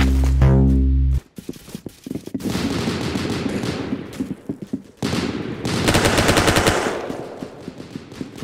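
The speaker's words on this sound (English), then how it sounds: "That's some beautiful shooting right there." Rapid automatic gunfire in an online shooting video game, loud and close, with long sustained bursts broken by short pauses and a few single shots.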